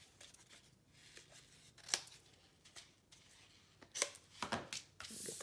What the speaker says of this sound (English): I'm going to come back in with my scissors, and I'm going to cut those corners off too